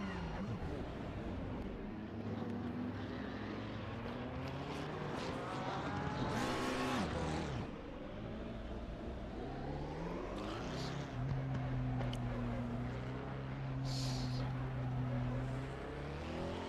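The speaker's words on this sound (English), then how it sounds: "And there's a Ferrari, and off he goes." A Ferrari race car in a racing video game, its engine droning and rising through the gears, with a brief tyre-squeal burst midway. A voice talks over the steady engine noise throughout.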